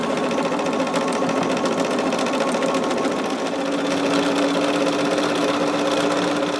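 A sewing machine stitches steadily and loudly with a dense, even mechanical whir, its motor pitch settling slightly lower midway through, with no talking.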